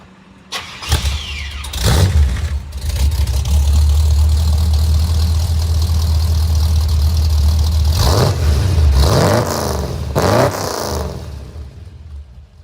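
A C3 Corvette with a true dual exhaust and the H pipe deleted cranks over and fires, settling into a loud, deep, throaty idle up close, then blips the throttle in a few sharp revs before shutting down.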